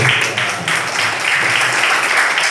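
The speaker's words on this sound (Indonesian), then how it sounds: "Tepuk tangan dulu Bapak Ibu." An audience at a group presentation on local wisdom claps steadily and fairly loudly for the whole stretch, a dense, continuous patter of many hands with no talk over it.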